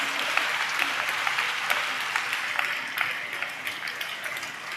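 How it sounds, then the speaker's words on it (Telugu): A church congregation applauds during praise at a knee-prayer service, a steady wash of many hands clapping at moderate distance, even and continuous with faint voices mixed in. "చప్పట్లు కొడుతూ స్తోత్రాలు చెప్దాం"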